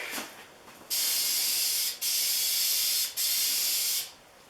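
Aerosol spray paint can spraying a plane body in three steady bursts of roughly a second each, loud broad hiss close to the can, with short pauses between and no talking.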